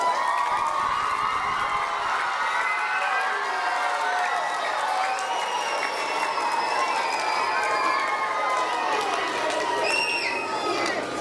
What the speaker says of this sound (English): let's give yourself another round of applause